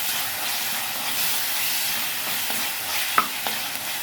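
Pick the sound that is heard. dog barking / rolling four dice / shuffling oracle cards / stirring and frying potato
stirring and frying potato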